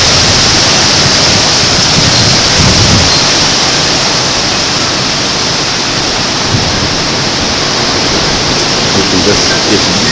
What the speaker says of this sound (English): It's blowing rain and water off the houses next door.